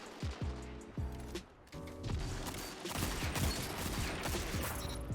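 Rapid gunfire in a shooter video game, with several sharp bursts early on, then dense, continuous automatic fire and impacts that go on loud without pause.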